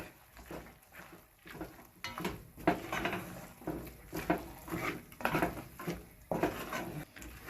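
Pigtail cook-up rice being stirred in a pot, a Vincentian dish: close, rhythmic scraping and clanking of a spoon against the pot in uneven strokes, with no voices.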